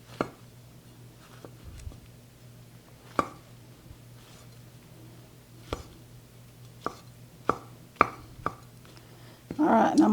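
A mushroom chopped with a knife on a board: sparse, irregular, crisp taps, about a dozen spread out, then a louder rustling at the end.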